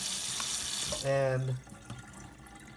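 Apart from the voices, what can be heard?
filling a pot with water from a tap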